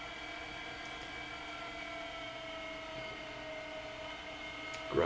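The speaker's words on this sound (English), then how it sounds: "Grinder's doing a great job." An electric meat grinder grinding pork for breakfast sausage makes a steady, even motor whine at moderate distance, continuous with no breaks, ending in a brief clatter.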